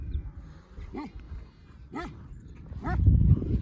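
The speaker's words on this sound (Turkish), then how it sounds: "Bunlar daha değişik köpekler." A few sheep flock guard dogs bark in short separate yelps, roughly one per second, with Akkaraman sheep flocks near Mount Ararat, over a low rumbling background that grows louder toward the end.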